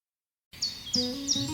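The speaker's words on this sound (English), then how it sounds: "birds are singing, and all feels right in the world" Birds sing after a moment of silence, repeated high chirping phrases that are close and clear, with no talking.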